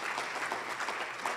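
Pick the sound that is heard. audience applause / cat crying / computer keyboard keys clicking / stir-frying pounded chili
audience applause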